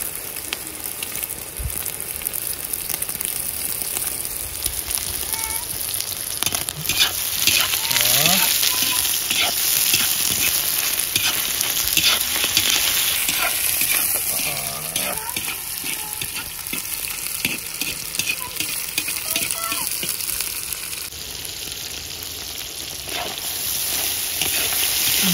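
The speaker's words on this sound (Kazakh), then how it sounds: "Етпен тағы да қуырылатын болады олар" Meat with onions and carrots sizzles and fries steadily in a cauldron, with occasional stirring scrapes and clinks throughout.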